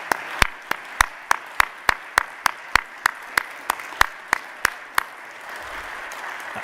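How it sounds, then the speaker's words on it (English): An audience at a talk on God and morality gives a round of steady, evenly spaced sharp claps, about fifteen in a row at a measured rhythm, which stop abruptly and leave quiet room tone. "let's give a big round of applause and thank you for the participation on that"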